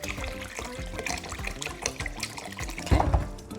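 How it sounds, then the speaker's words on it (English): Water pours from a vessel into a bowl of organic lentils set to soak, with a close, bubbling splash and gurgle, growing fuller and louder toward the end. "So we're just going to add the water in, and you can see we're using the reverse osmosis water."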